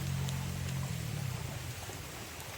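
Heavy rain falls beside a stream during a fishing outing, making a faint, steady hiss of drops with a low rumble that eases slightly after the first second.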